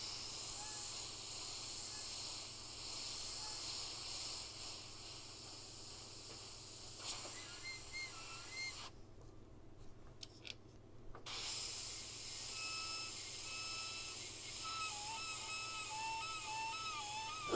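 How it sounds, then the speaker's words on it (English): An airbrush spraying paint through a template gives a soft, continuous hiss with faint squealing tones, broken by a brief pause in the middle before spraying resumes. "The squealing of an airbrush template."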